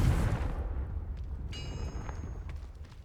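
The Confringo blast spell in Hogwarts Legacy hits with a deep booming explosion that decays into a low rumble, joined by a brief bright magical shimmer.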